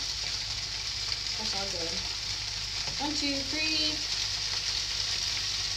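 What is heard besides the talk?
food sizzling in pan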